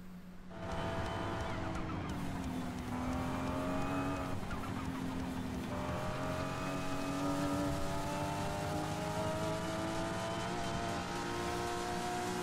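A drag car, the Super Mark IV, in the racing video game Forza Horizon 5, its engine winding up through long rising gear pulls with shifts between them, loud and continuous with no talk.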